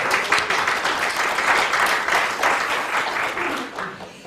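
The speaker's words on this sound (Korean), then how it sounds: "여러분의 박수로 시작하도록 하겠습니다" Loud, dense applause from an assembly audience opening a farm-policy network's 2022 general meeting, a continuous wash of many hands clapping that swells and fades slightly toward the end.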